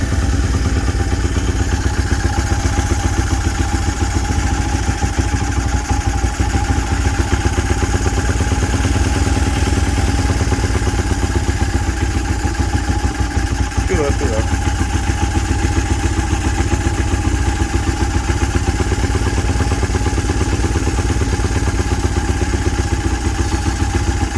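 A small mini bike engine idles after a carburetor swap, a loud, close, steady putter with constant clattering that holds unbroken throughout.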